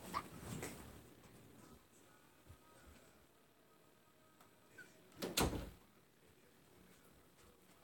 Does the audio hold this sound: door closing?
yes